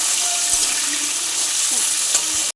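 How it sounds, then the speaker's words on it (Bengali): Potato pieces frying in hot oil, a bright hissing sizzle with faint utensil clinks, heard close and steady for a couple of seconds before cutting off abruptly. "আলুগুলো এবার ভালো করে ভেজে নেব।"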